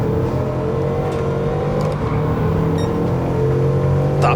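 A 2013 Bugatti Veyron 16.4 with an 8-litre W16 engine revs hard and gruff in a PS5 racing game at the La Sarthe circuit, a loud, steady roar with rising pitch near the end.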